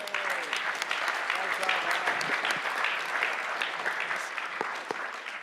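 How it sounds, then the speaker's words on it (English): At an education debate in the OEB 2024 conference, a large audience gives a round of applause, a continuous wash of clapping heard close and steady throughout. "A round of applause."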